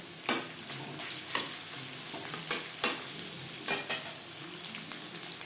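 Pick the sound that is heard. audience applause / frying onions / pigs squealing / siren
frying onions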